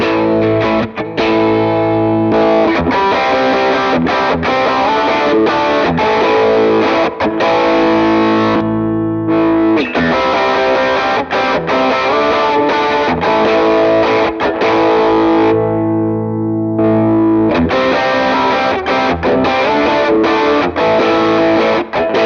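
Electric guitar runs through an 808 overdrive into a BluesBreaker pedal, playing loud, crunchy chords and riffs with sustained distorted tone, brief pauses between phrases, and no talking.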